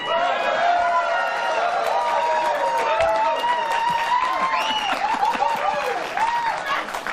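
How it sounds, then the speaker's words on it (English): A studio audience at a late-night news comedy show applauds in a steady, loud wash, mixed with cheering and crowd chatter, and a voice rises over it. "I didn't expect applause there"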